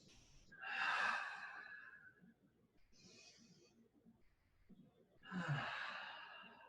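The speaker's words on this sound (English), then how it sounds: "Let's do 2 more here, 2 more big breaths." Two deep, breathy inhalations and exhalations during a qigong exercise, each a soft rushing swell about four seconds apart, with quiet room tone between.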